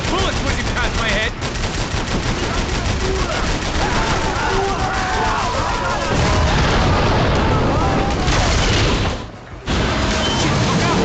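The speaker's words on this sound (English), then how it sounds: "The bullets whizzing past my head" Constant loud gunfire and whizzing rounds fill a Max Payne 3 firefight, shots overlapping densely and briefly dropping out near the end.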